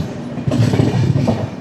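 The Sampark Kranti express rolls into Kota Junction with a steady, loud rumble of wheels on rails and rhythmic clatter from the carriages, heard up close from on board.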